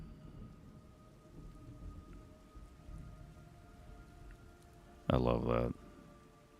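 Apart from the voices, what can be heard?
rain and thunder in video game Metal Gear Solid Delta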